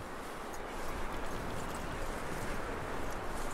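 Horse hooves clip-clop steadily on the ground in Red Dead Redemption 2, a continuous quick patter mixed into a broad, noisy game soundscape at moderate level.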